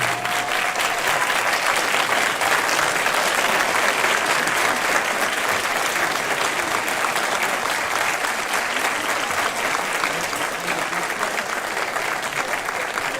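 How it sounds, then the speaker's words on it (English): An audience at a doctoral hooding ceremony applauds the graduates' supporters, dense sustained clapping from a large crowd that continues evenly throughout. "All of you who have supported a graduate here today, please rise and be applauded for the help and assistance during this challenge."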